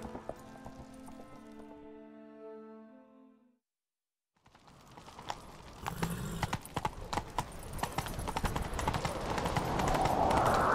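Horse galloping in The Witcher 3: a sustained tone fades to brief silence, then rapid hoofbeats pound in, growing denser and louder with a neigh among them toward the end.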